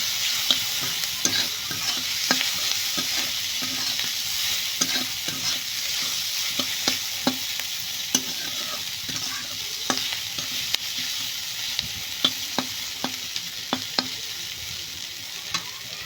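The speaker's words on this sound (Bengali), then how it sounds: "এবার এটাকে ভালো করে মিশিয়ে নেব" Spices with chili powder and cumin powder stirred in a frying pan, a continuous close sizzle punctuated by frequent rhythmic scrapes and taps of the spatula.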